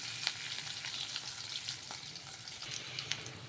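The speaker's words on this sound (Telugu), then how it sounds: "చూడండి, అవన్నీ ఫ్రై అయిపోతున్నాయి" Garlic, onion and green chillies fry in a pan as a soft continuous sizzle with faint crackles and pops, quiet and alone.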